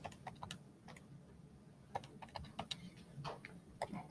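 Graphing calculator keys pressed while an equation is entered, a scattered series of quiet close clicks and taps at an irregular pace with no talking.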